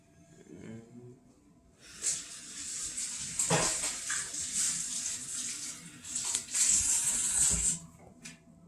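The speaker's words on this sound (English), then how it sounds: "Now I'm going to rinse my hands real quick." Hands rinsed under a running tap: a steady hiss of flowing water starts after a quiet moment, continues for about six seconds with slight splashing changes, then shuts off.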